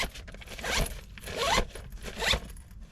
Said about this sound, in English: you can zip it back up and compress it